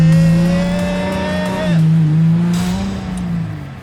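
A revived race car drifts around a track, its loud, close engine droning steadily and shifting pitch, with a hissy, squealing edge partway through.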